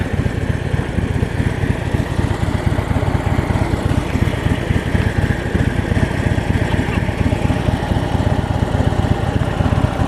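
A 2015 Harley-Davidson FLHTP motorcycle engine idles close by with a loud, steady, rapid low-frequency thumping throb that continues unbroken throughout, carrying a shaking, unbalanced character.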